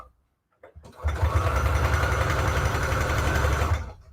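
A sewing machine runs steadily for about three seconds, stitching zigzag and straight stitches on book paper for tags, with a loud continuous mechanical whir that starts abruptly and stops cleanly, no talking over it.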